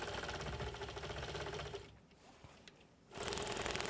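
Sewing machine stitching in the ditch on a log cabin quilt, a fast rhythmic needle chatter that runs steadily, pauses for about a second, then resumes at full pace.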